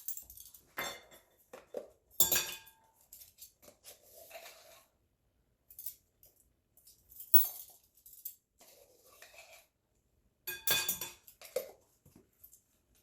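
Cornmeal, flour and baking powder whisked in a bowl for air fryer corn dog batter, heard as bursts of clinking, scraping metal-on-bowl strokes separated by quiet gaps.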